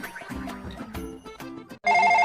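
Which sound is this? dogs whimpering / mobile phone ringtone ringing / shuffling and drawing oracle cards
mobile phone ringtone ringing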